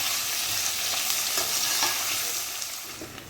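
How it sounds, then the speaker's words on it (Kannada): Pieces frying in a hot pan for Hyderabadi mutton curry, a steady close hiss and crackle with a few soft stirring scrapes and no talking. "ಚೆನ್ನಾಗಿ ಫ್ರೈ ಆಗಬೇಕು, ಬ್ರೌನಿಷ್ ಬರಬೇಕು, ಅಲ್ಲಿವರೆಗೂ ಫ್ರೈ ಮಾಡೋಣ"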